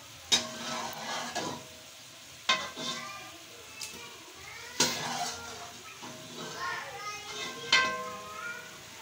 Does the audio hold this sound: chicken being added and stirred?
yes